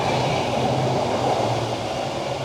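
A train runs through a station on a London suburban line, a loud, continuous rumbling roar of wheels and carriages. It sounds close, with no talk over it.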